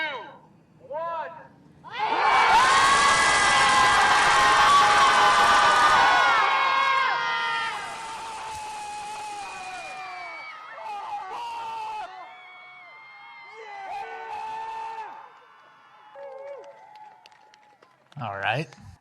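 A group of Chicago Scream Club members screams together in one loud, sustained burst of layered voices lasting several seconds, then trailing off into scattered yells, whoops and chatter.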